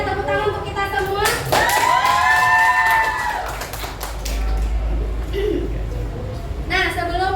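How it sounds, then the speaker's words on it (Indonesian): A class of students claps together during a school guidance lesson, a burst of group clapping mixed with voices and lively chatter around it. "Nah, tepuk tangan untuk kita semua."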